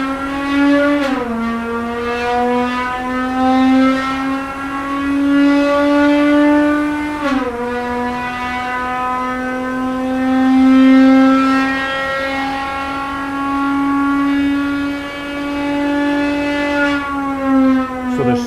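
A Gordon Murray T.50 engine screams toward high RPM, a loud, rich, many-toned wail that climbs steadily, breaks for an upshift and climbs again, with no talking.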